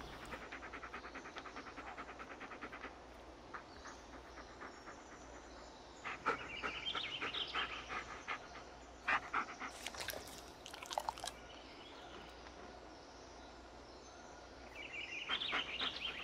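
Dog panting in the Blair Witch video game: rapid rhythmic breaths come in bursts over a steady outdoor forest ambience with birds and trickling water, moderately close.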